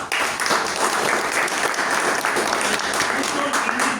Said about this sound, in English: I would like to give a round of applause to all the first-timer guests